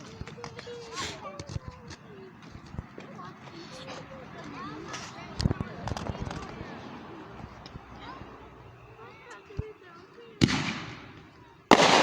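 Fireworks go off in scattered sharp bangs and crackles, some louder and closer than others, while people talk over them throughout.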